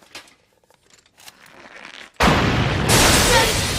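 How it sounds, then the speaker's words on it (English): Party poppers go off in an animated Fullmetal Alchemist film scene: after quiet, scattered sounds, one abrupt loud burst hits and gives way to a sustained noisy rush. "They gave me these poppers when I bought it."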